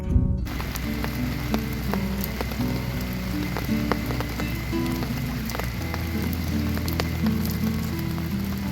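Heavy rain pours steadily onto a tent while camping at Sangkhla Buri, a dense continuous patter with scattered sharper drips throughout, close by and loud.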